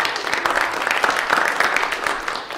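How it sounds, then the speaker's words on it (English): Moderate applause from an audience at a school district capital plan meeting, a steady wash of clapping hands that swells slightly midway, with a faint voice under it. "give them a round of applause"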